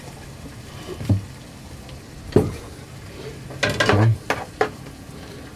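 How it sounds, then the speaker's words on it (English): Crab omelette ingredients being stirred in a sizzling pan: scattered utensil clinks and scrapes against the pan over a low sizzle, with a brief cluster of knocks toward the end and a short spoken word. "I'm going to take a moment and stir it around again to let the flavors kind of meld"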